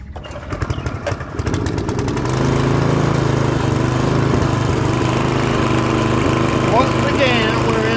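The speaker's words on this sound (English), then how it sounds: "All right, let's see if this thing will crank up." A roto tiller's small engine is pulled over with a few rapid cranking strokes, then catches and settles into a loud, steady running drone nearby in a summer garden.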